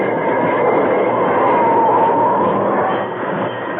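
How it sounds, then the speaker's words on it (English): Old radio drama sound effect of a steam train braking to a stop: a loud, muffled, band-limited rumble of rolling wheels that gradually slows and fades at the end. "As the train jerked to a stop"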